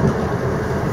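Low rumble of a train to Dublin rolling past nearby, a steady heavy mechanical drone lasting about a second.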